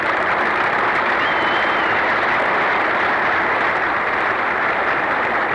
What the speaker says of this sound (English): The audience has broken into spontaneous applause as the sleek white Delta Wing aircraft comes to rest.